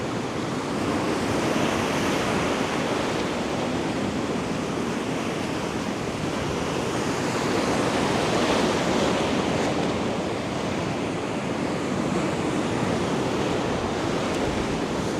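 Stormy sea surf crashes continuously at Arcadia beach in Odesa, a loud, dense roar of breaking waves and foam with wind buffeting the microphone throughout.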